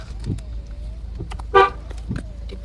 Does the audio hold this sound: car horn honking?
yes